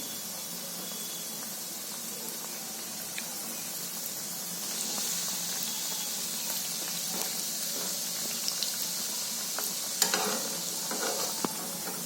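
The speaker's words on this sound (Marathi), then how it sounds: "आता हे घालते मी कढईमध्ये" Pieces of spinach vadi fry in oil in a kadhai with a continuous, close hissing sizzle that grows a little stronger midway, with faint occasional clicks and no talking.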